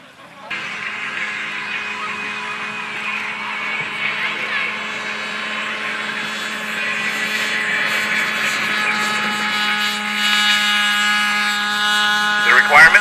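A radio-controlled model airplane flies at an SAE Aero Design competition, its propeller engine a sustained high-pitched buzz that rises slightly in pitch and loudness as it nears, steady and prominent throughout.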